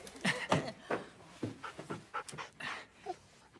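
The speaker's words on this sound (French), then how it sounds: "Les enfants, je vous présente Harley, mon chien" A dog pants in quick, close bursts of breathy huffs with a faint whimper, alone with no talk.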